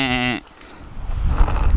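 A sheep gives a single loud, close bleat with a wavering tremolo that ends abruptly, followed by low rumbling background noise and faint voices.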